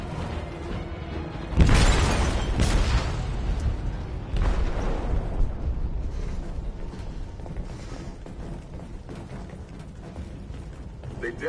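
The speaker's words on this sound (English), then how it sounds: "They detonated an explosive in the hold." An explosive detonates in a ship's hold in Detroit: Become Human, a loud crashing blast followed by a second impact, then a long rumbling, creaking, metallic wash that slowly fades.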